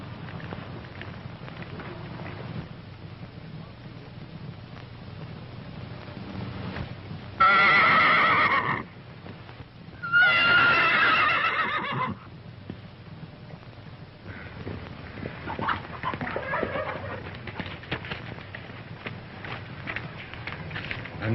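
A horse neighs loudly twice in quick succession, shrill and close, over a steady background of hooves clip-clopping and a rushing hiss that carries through the whole stretch, with a fainter whinny later on.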